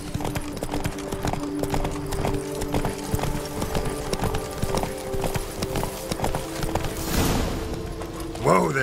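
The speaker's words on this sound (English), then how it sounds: "Whoa there, Roach." Horse hooves clip-clop steadily through The Witcher 3: Wild Hunt – Blood and Wine, a continuous rhythmic trot under background music and game ambience, easing off near the end.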